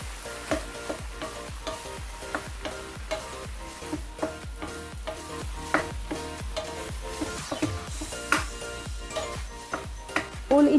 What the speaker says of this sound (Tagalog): ihalo na rin natin yung egg na niluto natin kanina for garnish dito sa ating fried rice